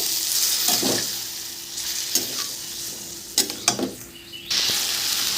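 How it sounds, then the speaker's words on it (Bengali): A spice paste of tomato and green chilli frying in a pan, a steady close sizzle broken by several scraping stirs of a spatula, with no talking. "সামান্য একটু জল দেবো যাতে মশলাটা লেগে না যায় ভালো করে কষে নেব"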